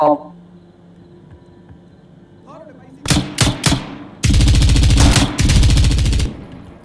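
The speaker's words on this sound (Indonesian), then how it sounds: "Tuh gua pakai pistol ya." A few sharp pistol gunshots ring out after a quiet stretch, followed by a long rapid burst of loud gunfire in a video game.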